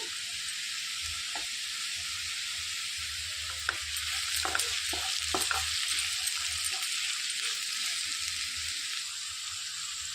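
Snake gourd curry simmers and fries in a pan, a constant close hiss broken by a few clattering scrapes as it is stirred.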